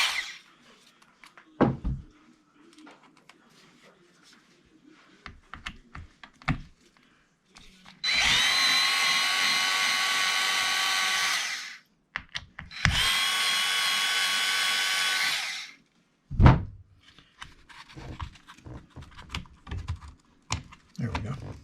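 Power drill loosening screws on an E-Revo 2.0 RC truck, two sustained whirring bursts of a few seconds each, separated and surrounded by light clicks and handling noises of tools and plastic parts.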